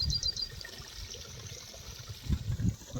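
Clear water streaming across a farm field soaked by heavy rain near Ghansawangi, Jalna, a soft, steady trickle and gurgle with a few louder splashy swells, heard fairly close.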